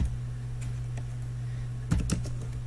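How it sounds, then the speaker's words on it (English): A few sparse, faint keystrokes on a computer keyboard with a quick cluster of clicks near the end, over a steady low electrical hum. "Oh my goodness, I can't type today."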